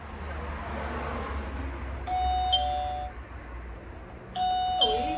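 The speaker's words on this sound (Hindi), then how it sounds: "किसी के घर की डोरबेल पहली बार बजा रही हूँ मैं" A two-tone electronic doorbell chime rings twice, a few seconds apart, over a low steady background rumble.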